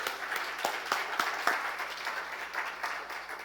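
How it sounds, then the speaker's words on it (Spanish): A church congregation claps together in steady, dense applause, a sustained wash of hand claps with a few sharper claps standing out near the front, fading slightly toward the end. "Denle un fuerte aplauso al Señor Jesús."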